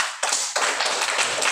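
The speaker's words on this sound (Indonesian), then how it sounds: "Mari kita tepuk tangan." A group claps at a school training session on positive culture. It starts suddenly after a brief silence and carries on as fairly dense, irregular applause.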